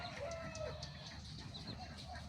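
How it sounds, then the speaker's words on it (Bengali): A rooster clucks and calls in short bursts, fairly faint, over a steady background hum with no talking. "এরপরে মুরগা"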